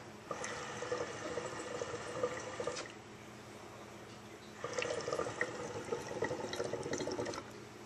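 Water bubbles and gurgles in the base of a HookahJohn-style hookah pipe in two steady draws, a long rumbling burble, a short pause, then another, close and fairly quiet.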